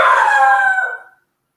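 A dog at a home gives one loud, close, drawn-out yelping bark that rises and trails off over about a second as someone comes down the driveway. No other sounds around it.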